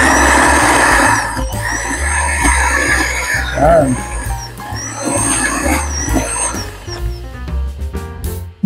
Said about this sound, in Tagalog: atin siyang i-blender ng halos mapino siya.